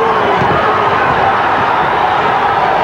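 Dense, roaring cheers from a boxing arena crowd rooting for Frankie Warren against Buddy McGirt, a steady loud wash of voices that fills the whole stretch without letup.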